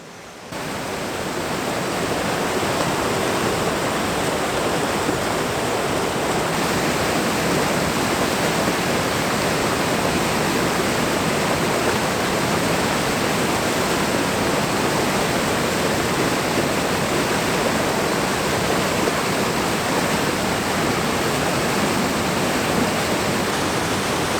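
Steady, loud broadband rush of a river flowing close by, continuous and unbroken for the whole stretch with no voices over it.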